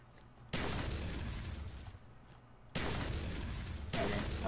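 Spas-12 shotgun firing Dragon's Breath incendiary rounds in a multiplayer video game: three loud, booming blasts spaced about two seconds apart, each trailing a long crackling roar, close and alone.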